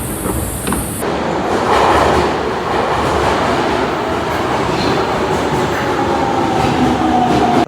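A train in Japan running, with a loud, continuous rumble and rolling wheel noise heard from close by, plus a faint rising whine later.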